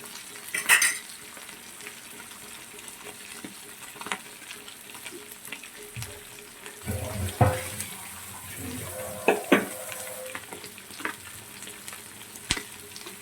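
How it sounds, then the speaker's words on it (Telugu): Sea fish fries in oil in a pan with a soft, steady sizzle, broken by clattering stirs and utensil knocks that come and go, heard close up. "చూడండి కాలుతుంది, ఎంత బాగా ఉడుకుందో"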